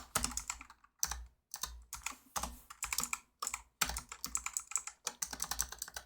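Quick, uneven bursts of typing on a computer keyboard while writing React code, with close, crisp key clicks separated by short pauses.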